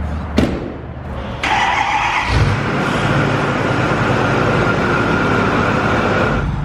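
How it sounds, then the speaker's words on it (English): A diesel pickup truck fresh from a turbo installation cranks briefly, then its engine catches and settles into a loud, steady running roar with a whistling tone, close by and continuous until a drop near the end. "Let's start her up."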